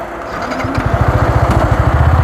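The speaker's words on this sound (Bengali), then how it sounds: "আমি বাইক আবার স্টার্ট করবো" A motorcycle engine starts up close and settles into a loud, rapid, even putter, each firing pulse clearly distinct as it idles.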